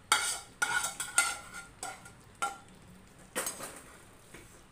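Eggplant tipped into a pan of home-style curry and stirred, giving several clattering scrapes and clinks of a spoon against the pan in short bursts, close and fairly quiet, with a faint sizzle between.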